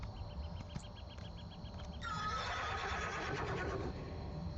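Horse whinnying in the Elder Scrolls Online video game, a single whinny rising over steady ambient game background noise, moderately loud and with no talk.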